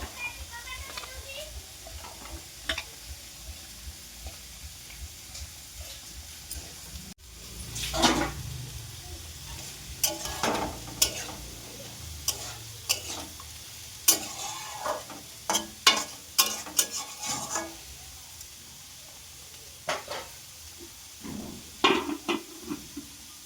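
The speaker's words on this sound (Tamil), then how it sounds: "இப்போ வந்து உருளைக்கிழங்க போடுறாங்க" Potatoes fry in a pan while a utensil stirs them, giving a steady sizzle broken by repeated scraping and knocking strokes, close and fairly loud, with people talking at times.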